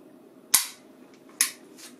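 Two sharp, dry clicks of a FAR9 rifle's trigger breaking during dry fire, spaced a little under a second apart, close and crisp against a quiet background.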